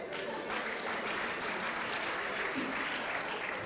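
A live stand-up comedy crowd applauds continuously, with dense, even clapping at full volume that holds steady throughout without a break.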